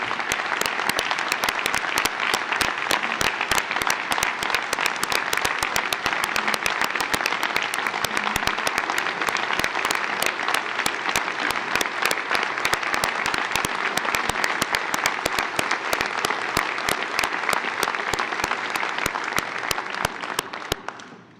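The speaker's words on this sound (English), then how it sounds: "give you the round of applause" Audience at the U.S. Soccer annual general meeting applauding in a large hall, a sustained, dense round of clapping that stays loud and even for about twenty seconds before cutting off.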